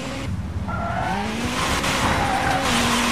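Rally car sliding through a drift on gravel in the WRC 5 video game, tires hissing and scrabbling with a steady engine drone, continuous and close for a few seconds.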